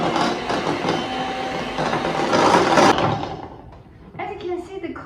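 An electric stand mixer whirs at higher speed through chocolate pastry cream, a dense steady motor drone with beater rattle that cuts off abruptly, followed by quieter clinking and handling.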